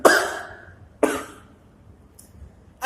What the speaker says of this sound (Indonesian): Gue batuk loh, serius gue batuk.